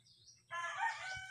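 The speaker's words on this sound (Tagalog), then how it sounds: "Ingay ng mga manok dahil nagpapatuka si Chris ng manok." Chickens being fed let out a short, loud burst of fowl calls that starts abruptly after a near-silent moment, with crowing and clucking heard close by.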